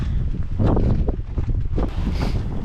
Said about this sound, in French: Un beau vent latéral avec beaucoup de compensation sur la conduite.